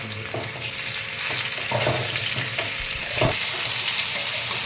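Jujubes dropped into hot oil with five-spice fry in a loud, steady sizzle, with occasional stirring scrapes and pops, close and without talk.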